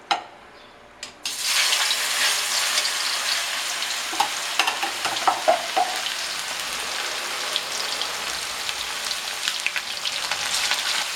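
Chicken pieces dropped into hot oil for a spicy Tamil-style chicken dry roast, setting off a loud, steady sizzle and crackle that runs throughout, with a few stirring clatters near the start and no voices.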